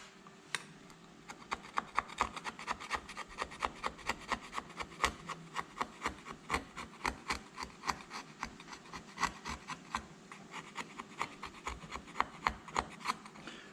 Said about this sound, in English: Let's try sanding it. See what the sanding is going to look like.